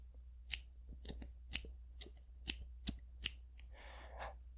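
Small spring-loaded scissors on an old multi-tool being opened and snipped, giving a quiet series of crisp metallic clicks at a steady pace, close up, then a brief soft rustle.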